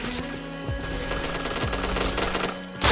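Rapid automatic gunfire bursts in a first-person shooter game, loud and close, with a sharper blast at the very end.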